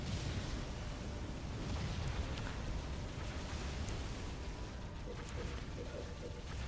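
Banshee air strikes exploding over a base in the Halo Wars video game on Legendary difficulty, a dense continuous rumble of blasts and debris with no distinct pauses.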